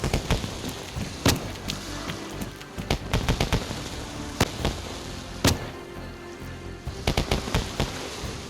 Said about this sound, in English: Looks like the fireworks have scared that chicken as well.